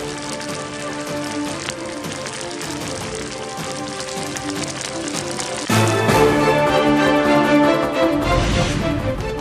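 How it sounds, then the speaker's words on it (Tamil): Heavy rain in the Kodaikanal hills of Dindigul district, a steady loud wash of falling rain with dense patter that thickens and grows louder partway through, no voices. "திண்டுக்கல் மாவட்டம் கொடைக்கானல் மலைப்பகுதிகளில் கனமழை"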